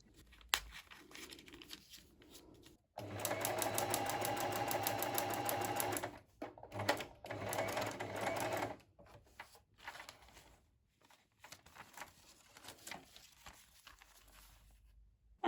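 A sewing machine stitches across the top of signal-blocking fabric in one loud, rapid burst of about three seconds, followed by quieter handling, rustling and clicks nearby.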